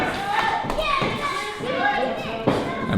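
A pro wrestler thrown over the top rope lands on the ring mat with heavy thuds during a triple threat match, close and loud under commentary and crowd noise.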